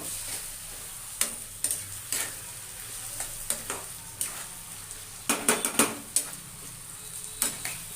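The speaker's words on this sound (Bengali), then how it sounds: "একটু ভাজা ভাজা করে নেব" Turmeric-and-salt-coated rice fries in a pan for fish-head muri ghonto. A soft sizzle runs underneath while a spatula clinks and scrapes against the pan in irregular sharp knocks and clusters. No one speaks.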